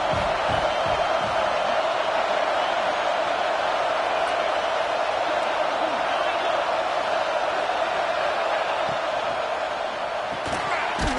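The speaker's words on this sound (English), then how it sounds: "And the crowd coming to life here, trying to help this defense down in the red zone." Stadium crowd roaring steadily at a college football game between Auburn and Virginia Tech, as the home fans rally the defense in the red zone; a loud, continuous wash of cheering with occasional sharp thuds over it.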